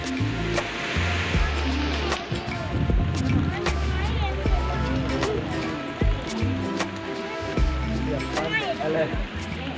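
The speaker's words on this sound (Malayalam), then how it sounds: "നല്ല മഴ വരുന്നു" Heavy rain pours down on a seashore, a dense, steady hissing roar mixed with surf that fills the whole stretch. Voices talk underneath it throughout.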